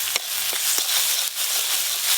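Hot oil sizzling and frying in a village kitchen pan after mustard paste is added to a fish curry base with tomato, salt and turmeric, a continuous bright hiss with a few sharp crackles, close and fairly loud.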